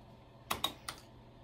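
Three quick key presses on an Apple //e computer keyboard, two close together and a third just after, sharp clicky taps up close against a quiet background.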